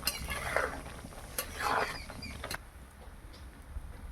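A spoon slowly stirs Gobindobhog rice pulao in a pot, giving soft scraping sweeps with a few sharp clinks against the metal, close and fairly quiet with no talking.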